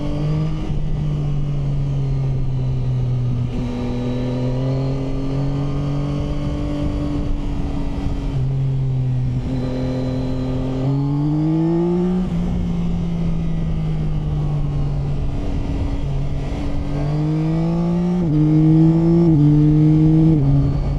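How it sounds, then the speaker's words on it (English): Yamaha Tracer 9 GT motorcycle engine accelerating on a twisty road, a loud, steady droning note that climbs in pitch in stages, with gear changes around the middle and near the end, and no talking. "Engine sounds really, really good."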